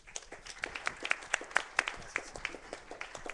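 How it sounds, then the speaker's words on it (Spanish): Faint, scattered applause from an audience at a tribute event, a thin patter of individual claps of uneven rhythm heard from a distance with no voices over it. "Cedo la palabra a Maco Nancaro, para quien pido un aplauso, por favor"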